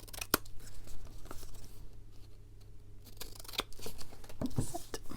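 Scissors trimming scrap paper while making craft embellishments, close and fairly quiet, with several quick snips and paper rustling scattered through the stretch.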